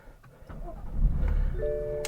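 A BMW M4 Convertible engine starts up nearby, a short starter whir swelling into a low, steady idle rumble, heard alone without talk.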